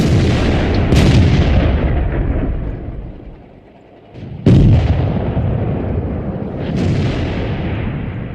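Tank guns fire in World of Tanks with three heavy booms, each followed by a rumbling decay, the loudest coming after a short quiet gap, with lighter engine and ambient rumble in between.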